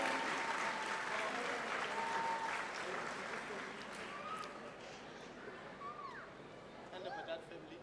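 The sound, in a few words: audience applause at a book launch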